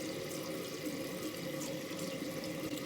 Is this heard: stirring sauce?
no